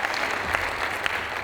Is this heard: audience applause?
yes